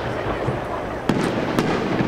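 Fireworks bursting at a July event near Greenport, with two sharp bangs standing out over a continuous roar of crowd noise and background sound.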